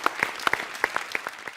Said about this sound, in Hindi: जोरदार तालियां बनती हैं